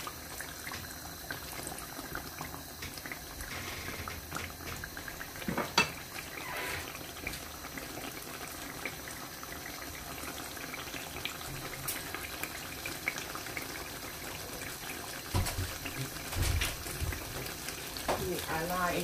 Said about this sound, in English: We allow it to boil.